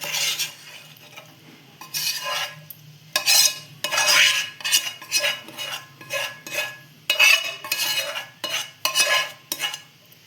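A spoon spreads leftover jackfruit vegetable over biryani rice in a pot, producing irregular scraping and clinking bursts against the metal, fairly close and clear, with quieter gaps between strokes.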